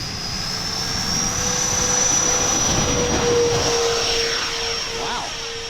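Dynam Gloster Meteor twin 70mm RC jet passing overhead, a loud steady whine of the electric ducted fans that swells and fades slightly as it flies by.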